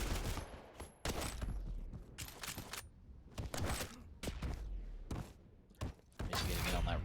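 Rapid weapon fire from a Quake Pro League match in Quake, with repeated bursts of gunshots and impacts at close range. The shots come in clustered volleys separated by short gaps, loud and dense throughout.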